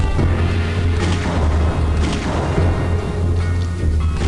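Grenade blasts in the video game Arcanum, a run of deep, booming explosions that rumble heavily one after another, loud and close, with no talking over them.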